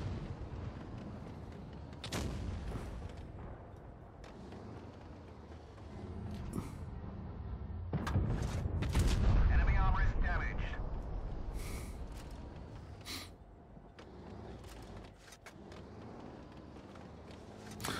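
Tank cannon shots in Tanks Blitz, several sharp heavy booms spaced out over a rumbling engine bed, with someone talking between and over the shots.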